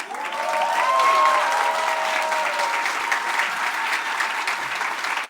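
An audience at a district final of an international speech contest gives sustained, dense applause that holds steady for several seconds before stopping abruptly, with a few faint whoops in the mix.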